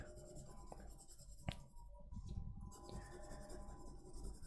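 Pencil rubbed over the back of a paper sheet to coat the drawn line work for transferring a mandala drawing, a close, steady scratchy scribbling that continues throughout with a brief tap partway through.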